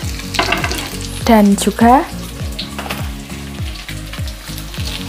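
Egg, carrot and spring onion stir-frying in a pan with a steady sizzle and rhythmic scraping of a utensil, while a person speaks briefly over the cooking.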